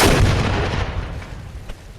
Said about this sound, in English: Having cannons is pretty good too